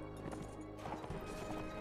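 Horse hooves clip-clopping in the medieval video game Mount & Blade: Warband, a quiet rhythmic thudding of a running mount mixed into dense game music and ambience.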